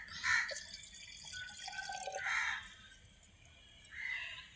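Water drips from a banana tree stump cut the day before, leaving about three distinct, faint drops spaced a couple of seconds apart against a quiet background.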